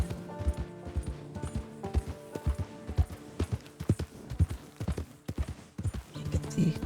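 A war horse in the video game Red Dead Redemption 2 clip-clops along at a steady walking rhythm, its hooves close and distinct over a faint ambient bed.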